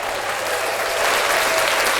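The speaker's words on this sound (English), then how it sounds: "Give yourself a round of applause for being here." Steady, loud applause from a crowd fills the whole moment, a dense wash of clapping without pauses.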